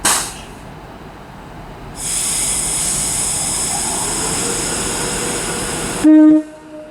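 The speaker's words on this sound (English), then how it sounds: "This is the 10:53 Avanti West Coast service to Blackpool North" An Avanti West Coast Class 390 Pendolino, unit 390043, pulls out of Birmingham International on the West Coast Main Line. A high electric whine swells and holds over rumbling wheels, then cuts off abruptly, and a short, loud horn-like tone follows.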